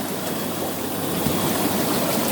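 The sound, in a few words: Lay-Z-Spa hot tub bubbling with air on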